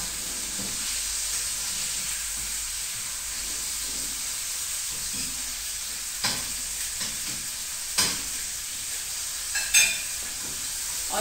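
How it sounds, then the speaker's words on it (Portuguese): Tofu fries in a pan with a constant soft sizzle and hiss, heard close and alone, broken by a few brief crackles and pops near the end. "É por isso que eu trago fritando o tofu"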